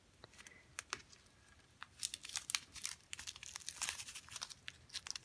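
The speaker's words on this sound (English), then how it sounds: "so I'm just going to rip this up real quick." Paper is ripped up quickly by hand during a craft project: close, crackly tearing bursts that come in quick succession, a few isolated rips followed by a busier stretch of shredding.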